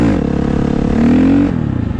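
A motorcycle engine revs and eases off during wheelie practice, its drone close and steady before the pitch rises briefly and falls back as the rider slows.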